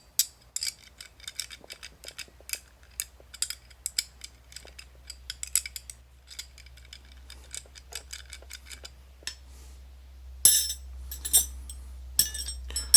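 A Husky wrench ratcheting on a stripped 11mm socket, a close series of rapid dry clicks and ticks in uneven bursts, louder toward the end, with no talking.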